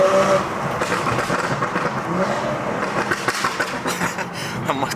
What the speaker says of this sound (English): Had a wheel spin there.